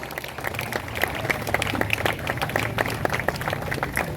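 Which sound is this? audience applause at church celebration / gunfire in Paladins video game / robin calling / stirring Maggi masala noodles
audience applause at church celebration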